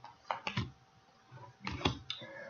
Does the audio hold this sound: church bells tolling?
no